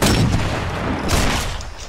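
Sniper rifle shot in Sniper Elite 4, a loud booming blast at the start that rolls off into a long echoing decay, with a second swell of rumble about a second later.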